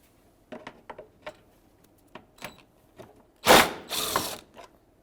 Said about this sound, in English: It's a 12mm socket or wrench, and we're going to take those right out.